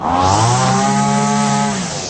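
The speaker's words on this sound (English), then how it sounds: "a weed whacker can do damage like any other power tool" A string trimmer's two-stroke engine runs at steady high speed, a dense buzzing whine with strong harmonics, loud and close, and it holds for about two seconds before easing slightly at the end.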